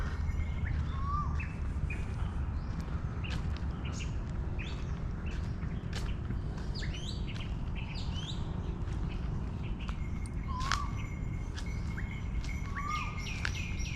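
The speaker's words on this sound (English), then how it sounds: "Heard that racket bird really singing there." Birds chirp and call outdoors in Thailand, scattered short tweets over a steady low background hum, fairly faint and distant.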